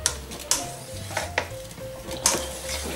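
Salad ingredients tossed together in a bowl, with soft scraping and stirring strokes and light clinks of utensils, close and moderately loud, in a loose irregular rhythm.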